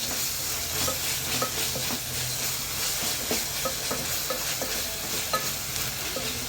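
Half a kilo of chicken with ginger sautés in a hot pan, a steady sizzle under rhythmic scraping stirs that repeat every half second or so, close and continuous.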